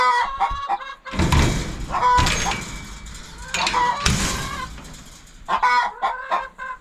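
Backyard hens cluck and squawk in agitated bursts, loud and close, with brief quieter gaps between the louder outbursts of fussing.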